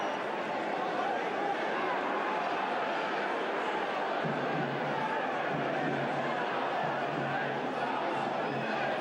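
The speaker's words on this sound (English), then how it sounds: "Encouragement from the crowd." Football crowd at a Sheffield Wednesday versus Charlton Athletic match, a steady distant wash of stadium noise with rising cheers of encouragement, heard under continuous commentary.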